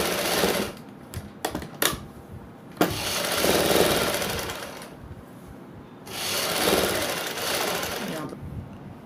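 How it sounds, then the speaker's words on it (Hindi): Sewing machine running in steady bursts while stitching a double seam along the neckline strip of an angrakha-style suit, with brief clicks and pauses between the stitching runs. "इसमें हमने डबल सिलाई लगा लेनी है इधर।"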